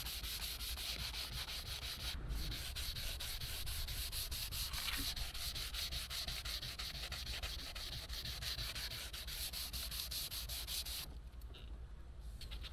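Sandpaper is rubbed back and forth over a scratched bumper on a Citroen Xsara Picasso, outdoors. The rasping strokes are continuous and close, with a steady hiss that eases slightly near the end and no talking.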